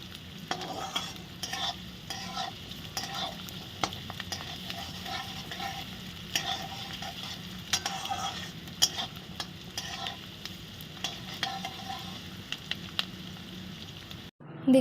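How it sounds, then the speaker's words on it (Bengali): Chopped onions sizzle in a pan while a spoon stirs them, with irregular scraping clicks over a continuous frying hiss, close and moderately loud, ending in a sharp knock. "দেখতে পাচ্ছেন ভালো করে একটু পেঁয়াজগুলো ভাজা ভাজা হয়ে এসছে"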